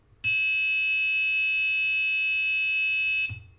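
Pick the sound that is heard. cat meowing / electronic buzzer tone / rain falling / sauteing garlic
electronic buzzer tone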